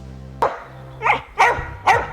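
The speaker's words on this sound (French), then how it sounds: "Aboyer comme ça, etc." A dog barks four times at close range, loud single woofs with short gaps between them, over a quiet room.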